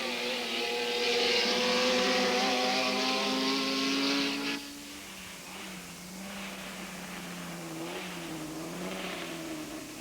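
Vintage race cars, a Lotus Seven and a Diva among them, racing at a golden-age Grand Prix: a loud close engine note holds high revs and then drops away, leaving other engines droning farther off.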